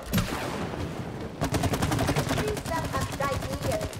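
Rapid gunfire from weapons in the co-op video game It Takes Two, with dense bursts of shots running throughout and a voice speaking over part of the fire.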